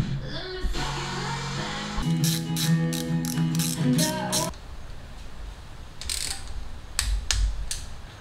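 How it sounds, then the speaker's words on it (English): Ratchet wrench tightening valve cover bolts on a Honda CB650 motorcycle during a top-end oil leak repair, giving bursts of rapid close clicking, then a pause and a few sparser clicks. "I've got the rest of the valve cover on, and I torqued everything down to about 7 foot-pounds"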